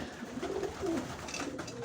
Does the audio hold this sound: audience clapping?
no